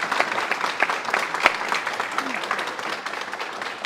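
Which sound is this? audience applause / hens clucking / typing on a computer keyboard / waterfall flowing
audience applause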